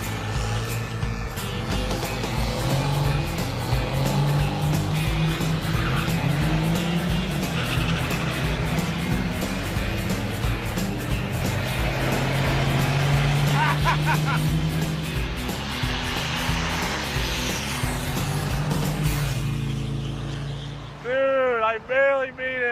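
A diesel-swapped Torino station wagon roars through a drag-strip launch and run, a loud, steady engine drone with rising pitch that fades near the end, when voices break in.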